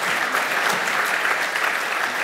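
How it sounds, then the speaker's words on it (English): A crowd at a tech conference keynote claps in a loud, dense, steady round of applause that stays even from start to finish, with no voices heard. "a round of applause for you"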